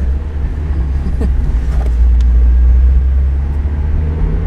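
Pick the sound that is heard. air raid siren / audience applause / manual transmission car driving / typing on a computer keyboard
manual transmission car driving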